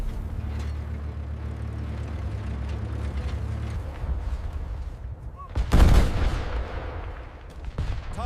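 An M3 Grant tank fires its main gun on a North African desert front, one heavy blast near the middle rising over a steady rumbling engine and battle din.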